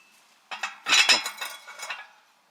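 A metal handle is pulled out of a mini cast-iron wood stove and slotted back in: a close cluster of sharp metallic clinks and scrapes lasting about a second and a half.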